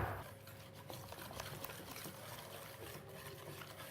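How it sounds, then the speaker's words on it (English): Milk is gently whisked into a smoked salmon pancake batter, making a soft, continuous wet swishing and stirring sound. It is faint and close, with no talk over it. "just gently whisk that back in"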